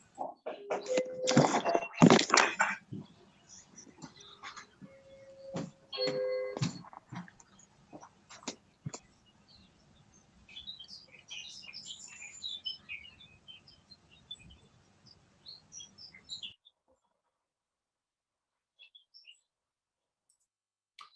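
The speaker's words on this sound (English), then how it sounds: "Garden warbler will sound like this." A garden warbler sings a long, rambling run of quick chirps and warbled notes. Sharp clicks and knocks break in early, and the song fades into near silence at the end.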